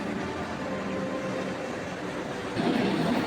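Steady rumble and hiss of a train idling beside the platform at Howrah Junction railway station in Kolkata, a continuous broadband wash with a louder swell near the end, no voices.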